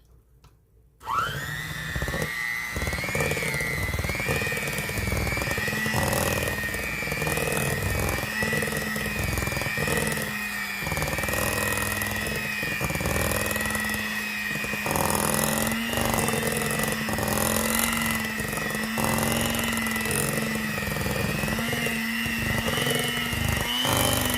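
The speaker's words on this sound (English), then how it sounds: "I'm going to get my hand mixer" An electric hand mixer whirs steadily through chocolate cake batter for a Coca-Cola cake, starting abruptly and holding a loud, close, continuous motor whine with slight shifts in pitch as it works.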